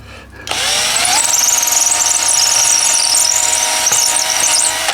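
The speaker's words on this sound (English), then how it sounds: "Don't actually think my drill's long enough" A power drill bores through hard wood with a loud, continuous whine and high squeal after a brief start-up, holding steady and close for several seconds, with no talking over it.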